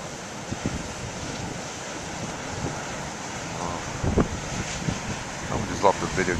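Strong wind buffets the microphone over big ocean waves breaking on a morning shore, a steady roaring wash with a few louder surges near the end.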